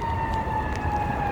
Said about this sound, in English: Actually, it's a fire truck.